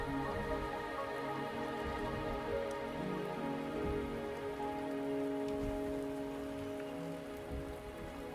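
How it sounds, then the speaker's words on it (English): Rain falling in the video game Wuthering Waves, a soft, steady patter of drops with faint tonal game ambience underneath, quiet and even throughout with no talking. "The rain is subsiding, and the sky will soon clear."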